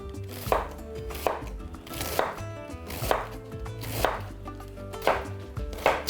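A knife cuts cabbage into strips on a board in a steady rhythm of about eight crisp, close thuds, each stroke evenly spaced, with no talking.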